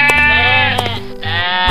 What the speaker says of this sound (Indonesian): Maaf ya, kambing saya emang suka ngejar.